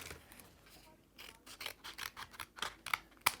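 Scissors trim a Tattered Lace paper die-cut of wilderness trees, giving soft, close, quiet snips and rasps that quicken into a run of cuts and end in a sharper final snip.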